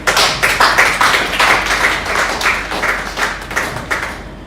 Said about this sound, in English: Another round of applause for Dr. Mrs. Foster.